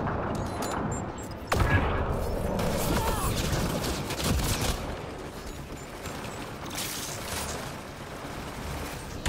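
Sustained gunfire from Mass Effect Andromeda rattles on as dense, loud bursts over a busy, noisy combat backdrop, with a sharp hit standing out early and the barrage thinning slightly toward the end.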